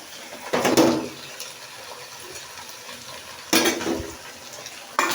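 Spoon scraping and stirring milk and sugar in a pan for sweet vermicelli (semai), two distinct stirring bursts over a quiet low simmer, close and fairly loud.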